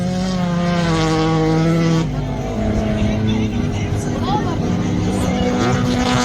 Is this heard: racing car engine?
yes